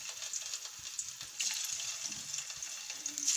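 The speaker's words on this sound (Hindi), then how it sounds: "अभी इसमें हम कोफ्ते ऐड करेंगे।" Bottle gourd koftas hiss and crackle as they drop into hot oil in a pan, a steady bright sizzle that swells partway through and stays close and even.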